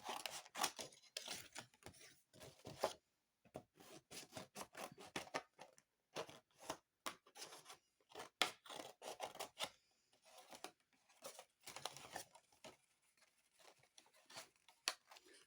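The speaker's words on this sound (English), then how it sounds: "Now I've got to cut out the main mushroom." Scissors snip repeatedly through paper while cutting out a paper mushroom shape, producing quick, crisp close-up cuts in uneven bursts with short pauses between them.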